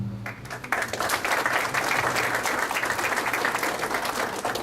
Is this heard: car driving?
no